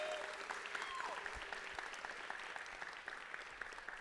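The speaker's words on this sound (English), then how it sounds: "So can we give her a round of applause?" An audience at a new student orientation claps steadily for several seconds, a dense, even patter of many hands heard from some distance.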